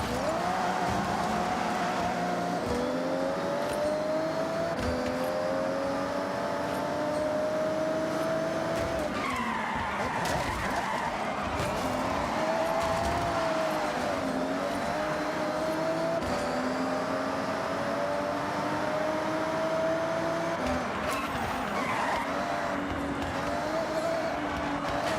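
Toyota Supra race cars in Forza Horizon: engines climb steadily through the revs with repeated tire skidding and squeal, a continuous loud game roar with brief shifts.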